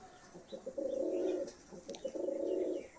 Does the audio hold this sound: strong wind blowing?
no